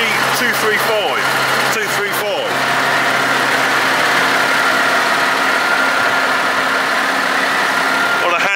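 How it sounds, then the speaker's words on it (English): A Valtra T235 tractor, a 230 horsepower machine, idles with a steady low engine drone that runs throughout, with a person talking over it in the first part. "230 horsepower tractor."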